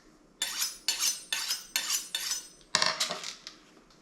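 A knife slicing through a ham hock terrine on a plate, with about half a dozen rhythmic scraping strokes against the plate, close and crisp, followed by a final clink.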